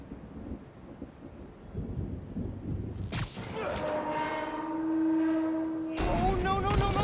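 A subway train in Spider-Man: Miles Morales rushes in along the tracks with a rising rumble and a long sustained horn blast, growing louder over several seconds and ending in a burst of screeching noise, with no one talking.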